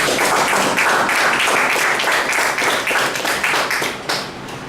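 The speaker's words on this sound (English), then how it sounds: "Let's give our president today a big round of applause" Loud, dense applause from an audience at a speaking event fills the whole stretch, steady clapping that thins slightly toward the end.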